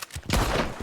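A single loud, sharp gunshot with a rolling blast goes off in a Wild West roleplay video game, filling most of the brief moment.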